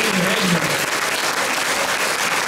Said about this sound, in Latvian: Tagad mēs vēlētos, lai paldies ar aplausiem sagaidīts aktierus.